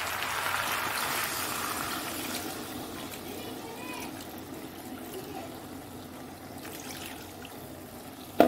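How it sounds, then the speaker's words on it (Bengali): Water poured from a mixer jar into cooking masala in a pan, making a steady close gush that gradually tapers, ending with a sharp clunk. "মিক্সিতে আমি মশলা করেছিলাম সেটাতে জল রেখেছি, জলটা দিয়ে দিচ্ছি"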